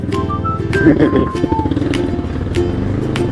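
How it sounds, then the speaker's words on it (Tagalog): A motorcycle engine running steadily close by, a continuous rumbling drone with voices talking over it outdoors. "Yan, dadalhin lang natin kay Wewe yung motor sa mekaniko"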